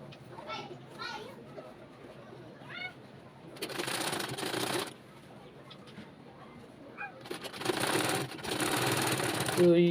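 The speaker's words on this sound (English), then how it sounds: "So if you notice, I am sewing only the front bodies." An electric sewing machine stitches the front bodice of an Ankara ball gown in two loud bursts of rapid whirring, while children play and chickens cluck in the background.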